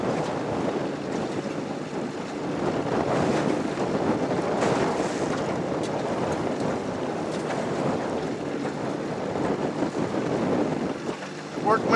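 Steady wind blows outdoors at a rustic log cabin deer hunting camp, buffeting the microphone with a loud, continuous rushing roar that swells and eases for the whole stretch.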